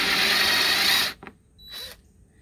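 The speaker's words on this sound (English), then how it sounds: "I'm going to go back here with my countersinking bit, and I'm going to widen out that hole just a little bit for me." A power drill fitted with a countersinking bit widens a hole for a boat fender cleat, whining loudly for about a second before stopping, followed by two short faint mechanical bursts.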